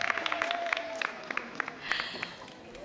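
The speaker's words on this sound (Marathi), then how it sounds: "जोरदार टाळ्या होऊन जाऊ दे त्या सगळ्यांसाठी" An audience at a Maharashtrian cultural festival program claps together, a brief burst of moderately distant applause with scattered individual claps, rising slightly toward the end.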